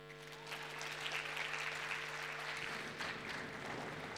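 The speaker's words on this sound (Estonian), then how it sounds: "Aplaus!" An audience at the ENTRUM superfinal event breaks into applause that swells within half a second and holds as a steady, full round of clapping over a low electrical hum.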